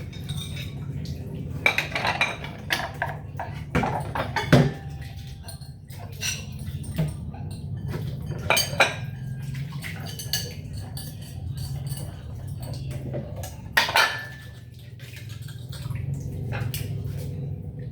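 Dishes and cutlery are washed under running water, with scattered clinks and clatters of plates and utensils rising intermittently over a low, steady stream.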